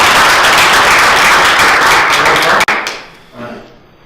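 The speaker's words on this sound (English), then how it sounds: "Everybody give Aaron a round of applause" An audience at a business event breaks into a loud round of applause for a volunteer, sustained for over two seconds before cutting off sharply, leaving a fading room tail.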